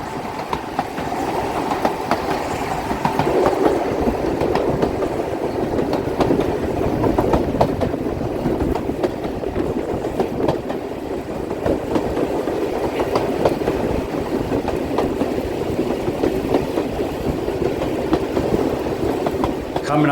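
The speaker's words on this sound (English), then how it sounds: "Here is 257 Squadron making its way back from Eridge, going to Tunbridge Wells West on the lovely Spa Valley Railway in Kent." Steam locomotive 257 Squadron runs along the Spa Valley Railway in Kent between Eridge and Tunbridge Wells West, a continuous rumbling chug with wheel clatter, fairly close and steady, with a voice talking over it.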